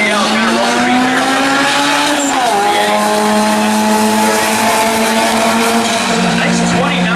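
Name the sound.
hatchback car launching at a drag strip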